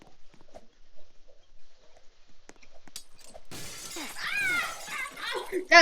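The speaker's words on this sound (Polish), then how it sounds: "Ja tam szkło się rozsypało" Glass panels shatter in the Roblox Glass Bridge game with a loud, bright crash after a few seconds of quiet clicks, and voices talk over the breaking.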